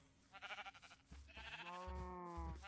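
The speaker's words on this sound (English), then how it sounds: "Oh look, there's some of our cows on that back. I thought I could hear them" Cows in the Minecraft modpack FTB Ultimate Reloaded let out a few drawn-out, wavering moos, faint and somewhat distant, with no talk over them.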